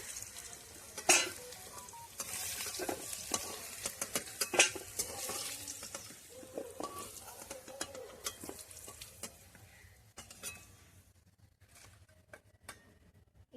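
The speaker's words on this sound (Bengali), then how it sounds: "আলুটা আমি লাল লাল করে ভেজে নিয়েছি, এবার তুলে নেব" Potatoes fry in oil with a crackling sizzle and scattered pops and spatula clicks, fairly quiet and close, thinning out toward the end.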